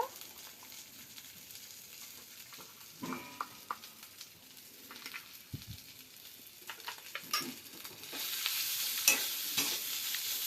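Potatoes fry in a pan with a steady close sizzle that grows louder and brighter toward the end, broken by scattered scrapes and clicks of stirring; no one speaks.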